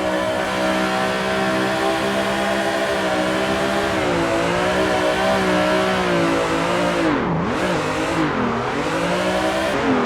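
In the Assetto Corsa racing game, a car engine howls at high revs through a figure-8 drift, with a steady, loud, continuous roar and brief dips in pitch as the throttle lifts and is floored again.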